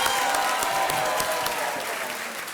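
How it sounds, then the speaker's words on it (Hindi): Studio audience applause on a television quiz show after a contestant wins a prize, a thick continuous clapping crowd with light cheering, loud and sustained, slowly easing toward the end. "तालियों के साथ इनका अभिनंदन"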